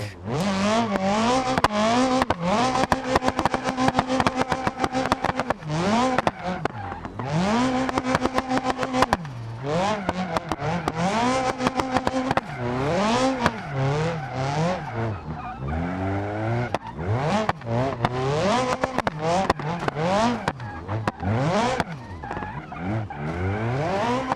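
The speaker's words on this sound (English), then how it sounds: "And I failed that because I spun out." A car in BeamNG revs hard through its gears and spins out, the engine note rising and falling again and again, loud and close, with tire squeal through the long stretch of driving.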